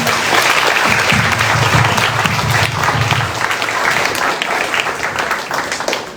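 An audience at a Thane event with the cast of the Marathi film Dharmaveer 2 bursts into loud, sustained applause, dense clapping filling the whole stretch and slowly easing toward the end.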